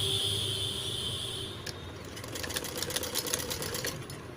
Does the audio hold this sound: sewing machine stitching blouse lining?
yes